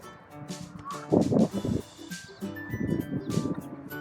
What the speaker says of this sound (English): Friendly chickens.